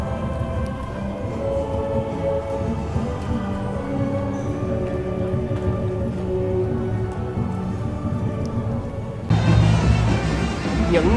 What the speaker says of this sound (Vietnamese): Mưa đang rất lớn.